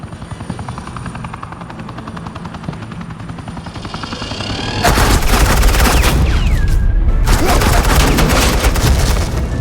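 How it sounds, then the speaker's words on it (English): Video game gunfire in a Batman game: suppressing fire from automatic weapons bursts in loud and dense over a steady helicopter drone, continuing for several seconds. "suppressing fire"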